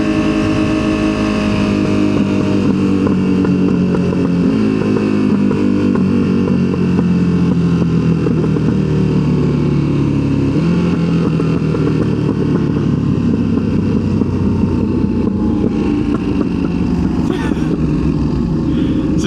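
Ducati Panigale V2 engine and exhaust on a ride, a loud continuous drone that slowly shifts pitch as it pulls through the revs, steady and close-up with wind roar throughout.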